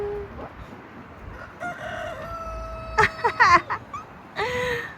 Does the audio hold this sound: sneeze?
no